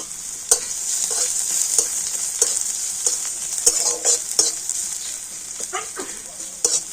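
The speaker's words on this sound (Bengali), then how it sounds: "তো রসুনটা আমি একটু হালকা লাল করে ভেজে নেব" Thinly sliced garlic frying in a pan, a steady close sizzle broken by repeated scraping stirs and light clatter of a utensil against the pan.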